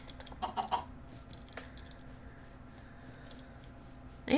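Chickens clucking in the video game Age of Engineering, a few soft, quick clucks early on over a quiet, steady ambient bed, with no talk.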